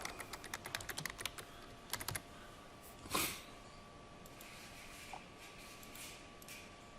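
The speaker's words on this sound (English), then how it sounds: "I'm going to type in Andrew Scott." Quiet, rapid tapping on a computer keyboard as a name is entered in Rhino, the dense keystrokes fading out after about two seconds, then a soft breathy noise and faint room hiss.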